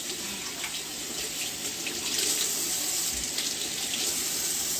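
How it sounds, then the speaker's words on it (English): Tap water runs steadily and loudly while a plate, onions and a cutting board are rinsed, a constant close splashing stream with no speech. "So we rinse the plate, the onions, and the board."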